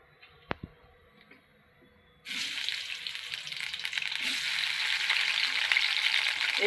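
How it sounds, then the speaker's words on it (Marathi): Washed potato pieces drop into hot oil after a quiet start with a sharp clink, then a loud, steady sizzle of frying that grows denser and keeps going to the end. "आपण हे धुवून घेतले बटाटे, तर तेलाला उकळी आली का त्याच्यात टाकून द्यायचे"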